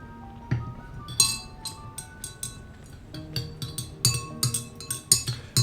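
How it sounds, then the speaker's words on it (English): Ice and a spoon clink repeatedly against a glass of iced coffee being stirred, bright irregular taps close by over a quiet game soundtrack. "it's me mixing up my coffee. Made iced coffee today."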